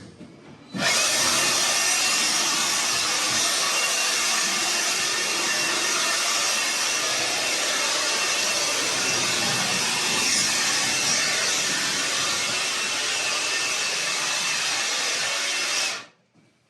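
Compressed air blowing dust off freshly sanded round logs inside a log home, a loud steady continuous rushing blast lasting about fifteen seconds, starting and stopping abruptly.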